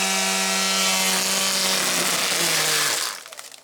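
An EGO electric chainsaw cuts through an inch-thick thistle stalk outdoors, a loud steady motor whine under load for about three seconds before it abruptly drops away to quiet.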